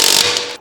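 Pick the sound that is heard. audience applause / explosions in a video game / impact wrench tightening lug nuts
impact wrench tightening lug nuts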